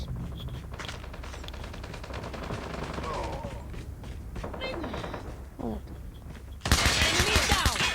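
Pistol shots ring out in a shooting video game, several separate cracks spread over the stretch with a louder burst near the end, set among game ambience and background voices.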